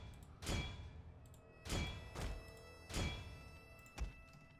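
Cannons firing in the Shogun 2 Total War video game, four separate booming shots spaced about a second apart, each a sharp loud blast that trails off quickly, with no talking over them.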